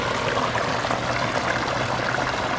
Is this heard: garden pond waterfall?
yes